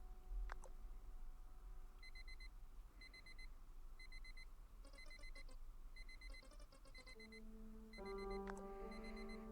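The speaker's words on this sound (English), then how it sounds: "So we've got to turn this alarm off." An alarm clock rings in repeated bursts of electronic beeps, with a sustained tone and a rising jingle near the end, over a steady background hum.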